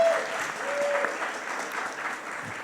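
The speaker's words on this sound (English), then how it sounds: "Round of applause for him, or her." An audience at a Camp Fangamer fan event breaks into applause for the day's top charity donor, a dense, sustained wash of clapping from many hands, close and fairly loud, with no break.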